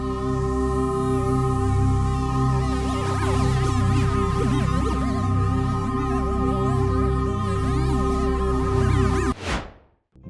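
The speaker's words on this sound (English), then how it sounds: "It cracks and pops like hot rocks thrown into icy water." Sonified thermal-shift data from the planet Mercury forms a dense, constant bed of twitchy crackles and pops over steady droning tones. It stays loud throughout, then cuts off with a short swept burst near the end.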